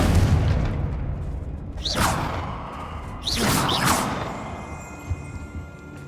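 Magical Confringo blasts in Hogwarts Legacy go off as a single whooshing boom, then two more in quick succession a second later, each with a rising swoosh over a low background rumble.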